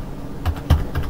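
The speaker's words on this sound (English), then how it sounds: "you would just literally type in" Keystrokes on a computer keyboard while entering a display resolution into a downsampling mod for Dark Souls 2, a short run of close, crisp clicks in an uneven rhythm with no voices.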